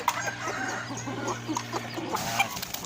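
A purebred Pamaiq hen clucks in short, repeated calls near the microphone, with a steady low hum and faint farmyard noise underneath.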